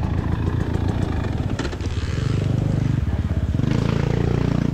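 A 4-stroke dirt bike roars past close by in a hare scramble race, its engine loud and rasping as it revs and pulls away, with another motorcycle following just behind.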